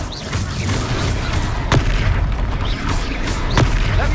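Confringo fire spells explode in the Hogwarts Legacy video game, loud booming blasts over a dense, rumbling battle din, with two sharp hits standing out.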